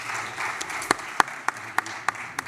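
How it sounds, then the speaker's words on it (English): Audience at an education event giving a round of applause during a token presentation, a soft ongoing patter of clapping with several sharper individual claps standing out at regular intervals. "please also give them a round of applause"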